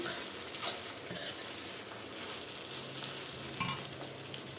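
Keema fry is stirred in a pan, soft scraping strokes over a low, steady sizzle. One sharper clink of the utensil comes near the end. No one speaks.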